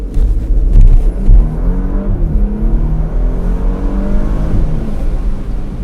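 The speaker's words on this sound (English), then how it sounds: "let's get a little acceleration off the line" A 2020 Porsche Macan S pulls away from a standstill under steady throttle, its engine pitch rising through the gears as it gains speed, loud and close with road rumble underneath.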